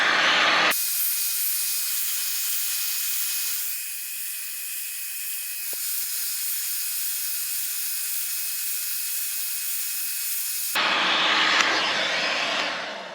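A heat gun or torch blows a steady broadband hiss onto the wheel bearing housing of a Suzuki DR650 rear wheel in a shed, running continuously for about ten seconds, loud and close, with a brief softer dip midway.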